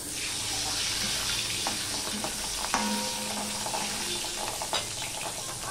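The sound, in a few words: pabda fish frying and popping in oil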